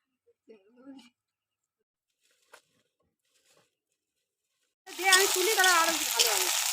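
Onions fry with a little salt in a pan for chicken curry. After near silence with a few faint clicks, a loud, close, continuous sizzle bursts in and keeps going.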